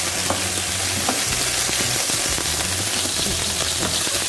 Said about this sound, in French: la tomate, j'ai mis un peu d'huile, j'ai mis un peu d'ail parce que le poisson il faut toujours de l'ail. Voilà, donc je fais revenir comme ça